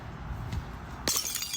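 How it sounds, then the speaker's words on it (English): A glass bottle smashes with a sharp crash and brief tinkling shards after a moment of quiet outdoor ambience near grass. "found a glass bottle over there in the grass. And I broke it"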